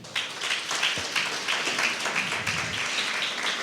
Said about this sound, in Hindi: अब ताली बजाकर बिलीव करते हैं तो।